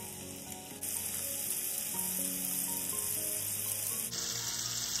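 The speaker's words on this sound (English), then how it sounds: "we're gonna fry up the shrimp" Shrimp seasoned with Cajun seasoning and cracked black pepper frying in a pan: a steady hiss of sizzle that jumps louder as they hit the hot surface, under quiet background music.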